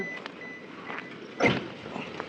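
Faint electronic reversing beeps sound from a vehicle, broken by a brief muffled thump, with quiet background noise throughout.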